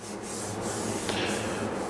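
Steady, close-up sanding, a continuous rough rubbing with a few harder strokes.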